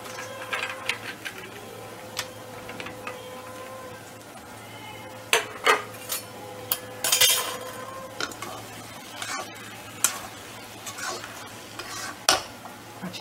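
Soaked lentil dumplings (bori) tipped into a pan of cooked kalmi greens with green chillies: soft sizzling under scattered scrapes, taps and clinks of a spoon against the pan, with no talking.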